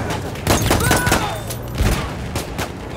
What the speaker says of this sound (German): Da wird hart geschossen.